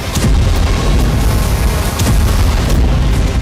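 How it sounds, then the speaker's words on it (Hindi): A loud, sustained barrage of booming blasts with sharp cracks from kamikaze drone explosions in Ukraine, rumbling continuously for a few seconds with no voices. "कभी कामिकाज़े ड्रोन से हो रहा धमाका"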